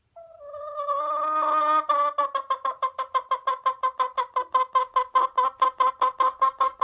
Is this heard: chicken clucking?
yes